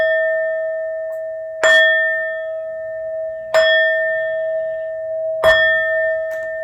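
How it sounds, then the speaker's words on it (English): Three clear bell strikes ring out at steady intervals of about two seconds, each with a bright metallic attack and a long sustained tone that hangs between hits, used to bless a tarot reading in a quiet room. "These next 4 bell sounds are to align us and to bless this reading"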